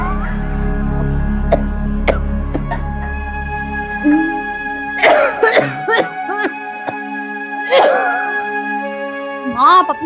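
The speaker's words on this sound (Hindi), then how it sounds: "कितनी खांसी हो रही है आपको?" A woman's coughing in a domestic TV drama scene: several rough, bursty coughs at close range, mixed with talk and a sustained music score throughout.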